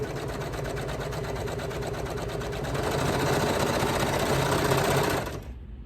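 A Brother Lock 1034D serger sews small baby bummies sections in one long steady run, the whirring grows a little louder midway and then cuts off near the end.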